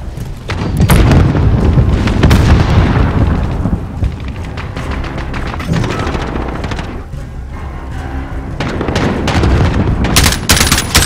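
Loud Call of Duty Modern Warfare multiplayer combat: a grenade blast booms early, followed by sustained bursts of automatic gunfire and further heavy impacts, close and intense throughout.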